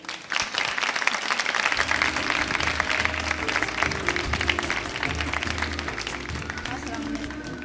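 A studio audience at a Ramadan iftar transmission breaks into sustained, loud applause, dense clapping holding steady and slowly easing off toward the end.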